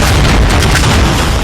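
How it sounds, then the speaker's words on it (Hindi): Loud, dense blast of exploding Russian missiles or shells in wartime Ukraine, a sustained roaring boom with crackling debris that fills the whole moment at close range, no voices. "पुतिन की मिसाइलें और पुतिन के गोले यूक्रेन को लहूलुहान कर रहे हैं।"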